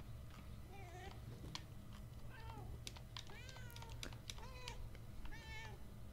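A cat in the video game Murdered: Soul Suspect meows repeatedly, several clear, rising-and-falling calls spaced irregularly over a quiet in-game background with faint clicks.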